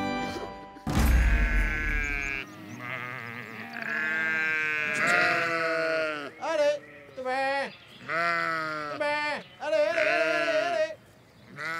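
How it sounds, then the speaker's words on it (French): Several sheep bleat loudly and repeatedly at morning feeding time on a small farm, their calls overlapping in a close, busy chorus while someone speaks briefly in French over them. "nourrit ses moutons avant d'aller travailler"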